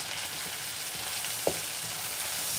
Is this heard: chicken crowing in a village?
no